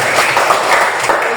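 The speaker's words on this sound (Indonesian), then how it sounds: "Oke, kita tepuk tangan untuk Erlin." A classroom audience applauds a student, with loud, dense clapping filling the whole short moment close to the listener.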